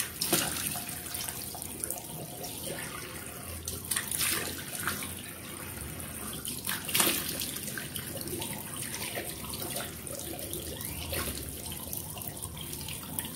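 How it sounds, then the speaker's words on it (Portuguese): Tap water runs steadily to rinse cleansing foam off a face, a continuous close splashing stream with occasional louder splatters and drips. "agora eu vou tacar ali água aqui"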